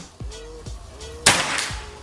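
A single sharp report from a PCP airgun, a Bocap FX, fired during a long-range accuracy test outdoors, a crisp crack standing out against a background of low, repeated thumps.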